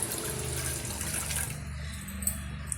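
Water poured into a tea pot, a steady splashing gush that fades into quieter trickling near the end, close and alone with no talk.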